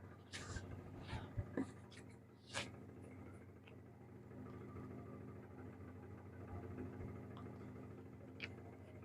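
Pen scratching across paper during a chemistry lesson, a few brief strokes near the start, then a steady low hum.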